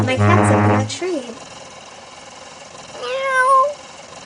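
A cat meows in a toy play scene with construction vehicles: a short rising call near the end, after a brief burst of voice-like sound at the start, with little else around it.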